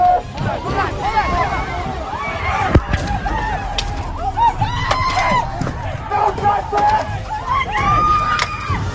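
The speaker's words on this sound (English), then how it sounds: "the crowd surrounded the vehicles" Protest crowd surrounding police cruisers, a loud close hubbub of many overlapping voices, shouts and chatter with sharp knocks and engine rumble underneath.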